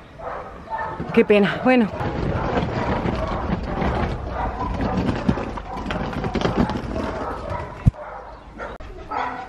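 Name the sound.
dogs barking at an animal shelter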